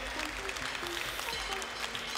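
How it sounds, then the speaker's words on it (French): A crowd at an Abondance cattle breed show applauds the breeders, a dense wash of clapping heard from a distance, steady but modest in loudness, with a hum and some voices underneath. "Donc je vais vous demander d'encourager ces éleveurs, vos applaudissements."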